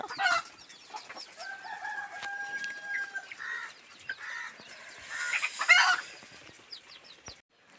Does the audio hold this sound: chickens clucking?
yes